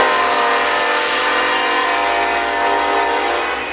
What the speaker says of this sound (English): I finally caught a BNSF